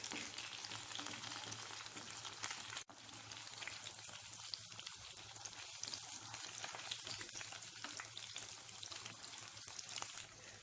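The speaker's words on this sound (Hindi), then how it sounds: "ये तो अच्छे से फ्राई हो रहे हैं। ऐसे ही लो फ्लेम पे फ्राई करें।" Old Delhi style keema balls, minced meat kebabs bound with egg, fry over a low flame, giving a steady, even sizzle and crackle close by that carries on unbroken with no voices.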